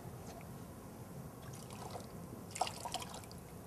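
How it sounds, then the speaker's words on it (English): Hot water running from a tap while surgical lumbar puncture instruments are washed, a steady faint splashing trickle with a few brighter drips near the end. "This is running water, it's a hot water."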